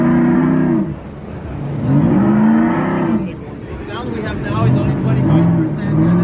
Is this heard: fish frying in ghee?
no